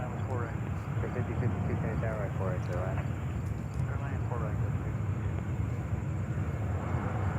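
A Qatar Boeing 777 taxis at JFK airport in New York, its steady engine rumble and whine droning continuously at moderate distance while a person talks over it.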